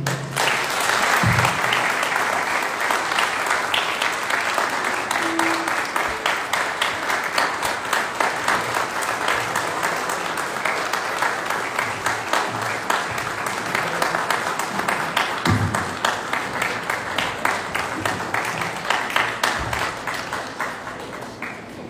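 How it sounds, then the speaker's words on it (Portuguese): Sustained applause from an audience at a medical school class reunion ceremony after a speech, dense and steady clapping throughout with a few sharper taps, no talking over it. "Muitos e mais aplausos."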